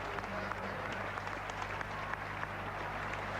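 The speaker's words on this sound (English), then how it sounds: "Huge applause from the crowd nearby." A stadium crowd at a world athletics championships long jump applauds steadily, a dense wash of clapping with scattered sharper claps over a constant hum throughout.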